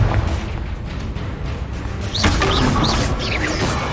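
Confringo spell explosions from Hogwarts Legacy, a dense rumbling boom followed by brighter fiery bursts and crackles, loud and close, with no voices.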